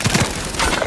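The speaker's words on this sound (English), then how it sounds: "Grenade!" Grenade explosion in Call of Duty Black Ops 3 multiplayer, a short muffled boom set among loud game noise, with thumping low impacts.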